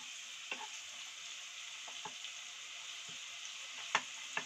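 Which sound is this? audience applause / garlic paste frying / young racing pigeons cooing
garlic paste frying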